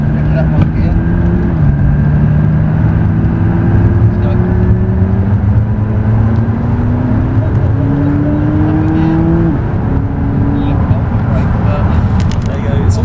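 A supercar driven fast on the Top Gear test track drones loudly and close, its engine pitch climbing and dropping with gear changes, while a voice talks over it.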